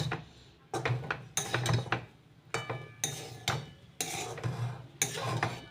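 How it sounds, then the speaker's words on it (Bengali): Leftover rice frying with potatoes in a pan, stirred with a utensil in a steady rhythm of repeated scraping strokes against the pan over a soft sizzle, close up with no talking. "এখন আমি এই ভাত ভাজা করব।"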